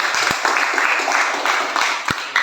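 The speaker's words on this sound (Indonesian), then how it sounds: "tepuk tangan dulu sama kelompok" Group applause for a presenting team at a school coaching session, a steady dense wash of clapping from a small room of people, moderately loud with a couple of sharper claps near the start and end.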